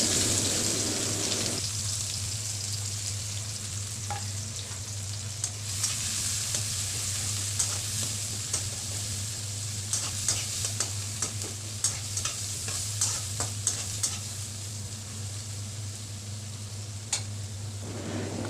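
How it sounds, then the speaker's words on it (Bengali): Chopped onion frying in oil left over from frying tengra fish gives a dense, even sizzle with a low hum beneath, punctuated by soft scrapes and taps from stirring throughout. "তারপর এই ভাজা তেলের মধ্যেই পেঁয়াজ কুচি দিয়ে দিব।"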